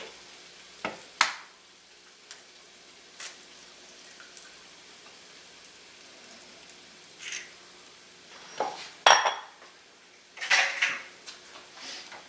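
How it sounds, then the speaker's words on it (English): Eggs scrambled with a spatula in a pan of pork fried rice, a soft sizzle under scattered scrapes and knocks of the spatula against the pan. "just work the egg around with your spatula"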